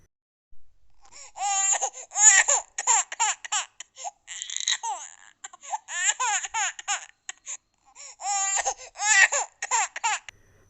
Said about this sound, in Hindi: एक बच्चे के रोने की आवाज़ आ रही थी